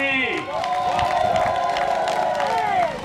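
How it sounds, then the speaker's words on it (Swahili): Crowd at a CCM campaign rally in Madaba applauding and cheering, a dense wash of clapping and shouts under a loud amplified voice that carries through. "Pigeni makofi kwa Samia Suluhu Hassan"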